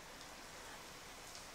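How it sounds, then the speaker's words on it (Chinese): Winter rain falls steadily, a faint, even hiss with no other sounds. "今天下雨啊"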